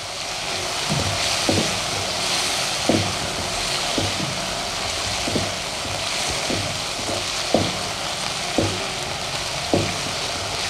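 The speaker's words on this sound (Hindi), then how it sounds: "लाइट ब्राउन होने तक चिकन को फ्राई करेंगे।" Chicken seasoned with white pepper fries in a pan toward light brown, a steady close sizzle with periodic sharper taps and scrapes of stirring.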